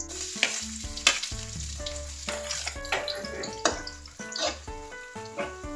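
Chicken sizzles in a little oil while it is stirred, with a steady crackling fry, scraping, and occasional utensil clatter close up, and nobody speaking.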